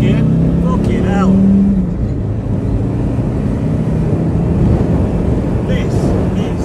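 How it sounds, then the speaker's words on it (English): A tuned 250 bhp TDI car accelerates hard through second and third gear, its engine and road drone heard loudly and steadily from inside the cabin while someone talks over it. "we're going to give it a little bit of stick in second and third gear"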